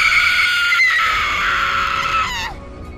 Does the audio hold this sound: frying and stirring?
no